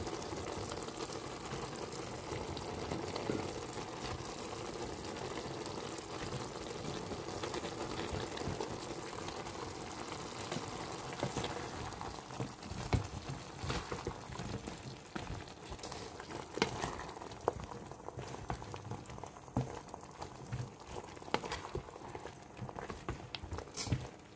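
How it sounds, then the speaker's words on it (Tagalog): Water boiling in a pot with okra, a steady bubbling simmer with faint clicks and pops, continuous and close, no one speaking. "Hayaan lang pakulo. Yan, kumukulo na."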